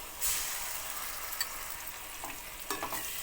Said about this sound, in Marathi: कांदा थोडासा ब्राऊन होईपर्यंत परतवू द्यायचा.